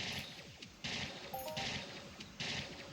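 Weapon fire from hunting AI robots in the online game Entropia Universe, heard as repeated bursts of sharp shots with a steady rattling layer beneath and no talk over it.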